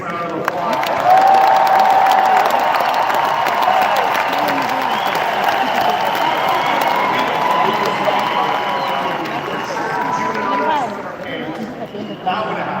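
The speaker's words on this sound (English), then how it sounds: "Can we give her the biggest round of applause?" A big round of applause with cheering from an audience at a live speaking event, loud and sustained for over ten seconds before slowly thinning out near the end.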